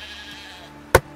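A single short sheep bleat rings out loud and close near the end, after a quiet stretch of low background hum.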